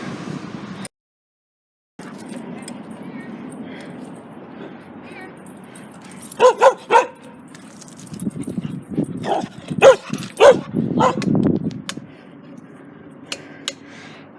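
A dog barks repeatedly outdoors in a downtown neighbourhood, a few sharp barks in bursts with whimpers between, moderately near over low street noise, with no talk.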